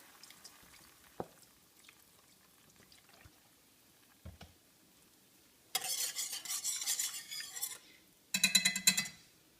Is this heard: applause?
no